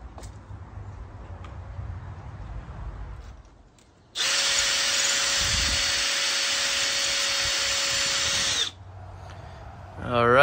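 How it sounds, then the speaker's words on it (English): A power drill bores into a wall to mount a bathroom exhaust fan vent, a loud steady whine lasting about four seconds after a quieter lead-in, then cutting off. "We're gonna drill it in, seal it, and we should be good to go with this."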